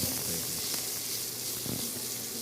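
Bacon sautés on high heat in a pan, giving a steady bright sizzle and hiss with a few faint pops and no voices.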